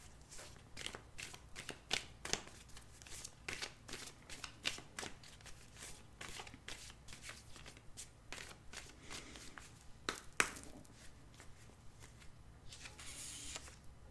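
A deck of oracle cards is shuffled and drawn by hand for a tarot-style reading, a faint, steady riffling and soft flicking of card stock with an occasional sharper snap, close and quiet, without speech.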